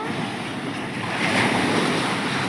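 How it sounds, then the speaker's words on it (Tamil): Ocean waves breaking on a beach at Pondicherry, a loud continuous roar of surf with wind buffeting the microphone, swelling slightly midway. "நல்லா அலை அடிக்குது, கொஞ்சம் டேஞ்சர் தானா."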